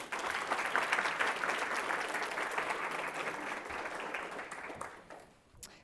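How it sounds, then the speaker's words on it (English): An audience at a women's business conference breaks into dense, steady applause that stays loud for several seconds, then thins and fades toward the end. "So give yourselves a round of applause."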